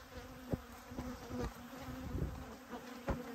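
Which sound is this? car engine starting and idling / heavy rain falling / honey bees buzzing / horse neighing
honey bees buzzing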